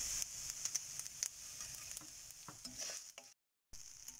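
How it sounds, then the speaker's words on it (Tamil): Masala spices and poppy seeds for Chettinad-style mutton curry being dry-roasted and stirred in a pan, a soft, quiet scraping and sizzling with light taps of the spoon, then a brief silence. "மசாலாலாம் நல்லா வறுத்து எடுத்தாச்சுங்க"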